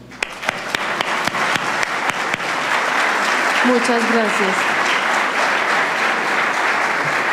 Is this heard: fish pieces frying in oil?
no